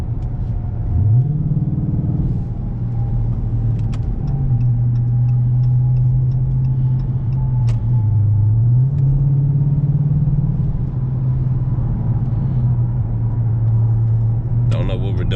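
A car rolls slowly along a road, its engine a steady low drone with a slight rise and dip in pitch and a constant interior rumble.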